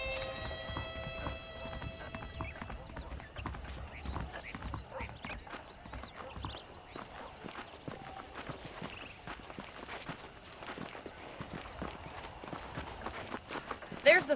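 A horse being ridden in Red Dead Redemption, its hooves clip-clopping in a steady walking rhythm for the whole stretch, with a voice talking over the footfalls and a louder stamp near the end.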